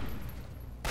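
Enemy gunfire in the video game Fallout 3, heard as a brief dense burst of shots with a sharp loud crack at the end.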